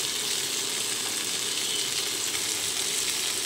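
Ginger paste, cumin powder and slit green chillies frying in a pan give a steady, close hiss of sizzling oil that runs unbroken throughout, with no voices.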